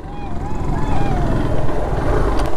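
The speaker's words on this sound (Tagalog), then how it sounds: "Malalakas mo naman motor nito eh." A motorcycle engine runs steadily and loudly up close, with a continuous low throbbing drone and some faint whining overtones and no pauses.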